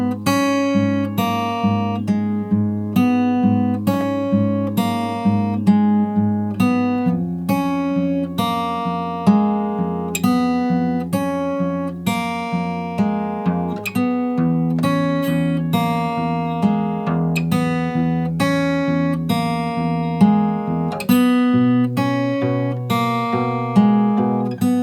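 Acoustic guitar plays a full melodic line from the Dying Light: The Beast score, with plucked notes over a steady bass pattern. The playing is close, clear and unaccompanied, with a brief pause in the middle.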